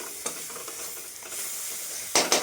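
Turmeric hitting hot oil in a curry pan on low heat gives a steady soft sizzle with brief stirring scrapes, and louder bursts near the end. No one speaks.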